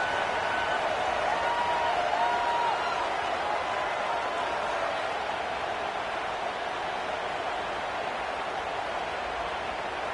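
A video game football stadium crowd buzzes after a score, a dense continuous roar of massed voices holding steady at moderate loudness throughout.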